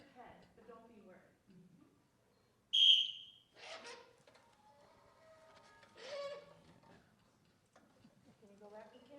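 A single sharp, high whistle blast calls a trained bird during an indoor wilderness presentation, heard between stretches of people talking.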